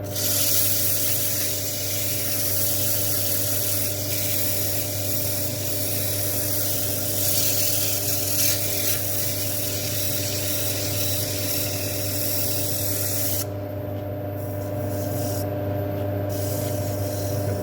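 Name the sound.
sanding a wooden bowl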